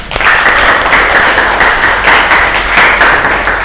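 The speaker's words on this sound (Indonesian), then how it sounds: "Tepuk tangan dong." A class or audience at a school arts lesson claps loudly and steadily for a few seconds after a group performance of Song of Joy.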